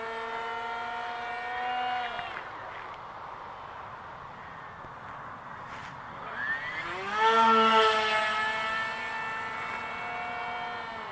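A C1 Chaser model aircraft's electric motor whines steadily in flight, its pitch dropping and then climbing as the throttle changes, and rising to a louder peak late in the pass.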